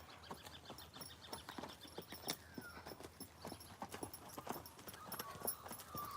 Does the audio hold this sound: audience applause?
no